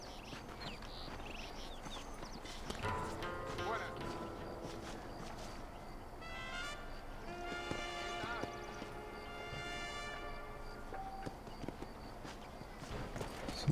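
Horse hooves clip-clop at a walking pace in the video game Red Dead Redemption, a steady rhythmic stepping heard fairly quietly beneath voices talking, with faint birdsong in the background.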